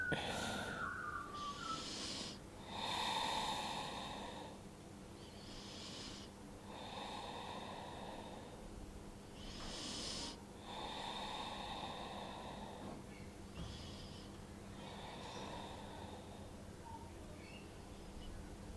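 Slow, deep breaths during a yoga hip stretch, several long airy inhales and exhales spaced a few seconds apart, close and fairly quiet over faint background hiss.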